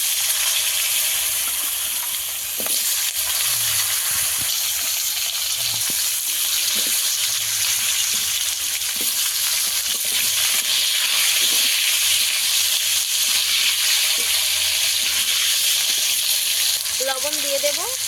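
Long strips of potato frying in oil with cumin seeds, a steady dense sizzle and hiss throughout with occasional stirring clinks, close and fairly loud, no talking.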